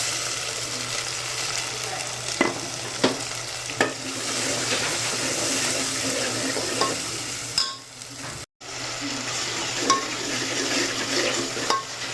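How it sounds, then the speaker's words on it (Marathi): Ground masala paste hits hot oil in a pan for Nashik misal, giving a steady loud sizzle and frying hiss with a few stirring scrapes and clinks, close and continuous with no talking. "आता जे वाटण केलेलं होतं ते टाकायचं."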